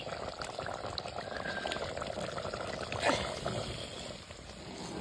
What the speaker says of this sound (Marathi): आता ना ह्याच्यात घालायचंय गरम पाणी